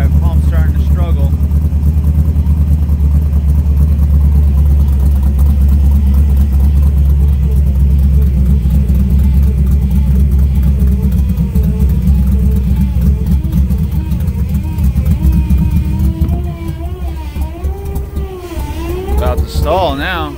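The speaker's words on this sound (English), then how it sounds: "Hear that pump starting to struggle." In a running car, a struggling, cavitating FiTech fuel pump drones on with a wavering whine over the engine's steady rumble, which sags and turns uneven near the end as if about to stall; a person speaks briefly at the start and close to the end.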